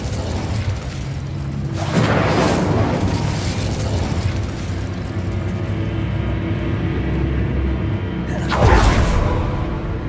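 An Incendio fire spell is cast in Hogwarts Legacy, bursting out with a loud whooshing blast that leaves a rumbling roar. A second strong burst follows near the end.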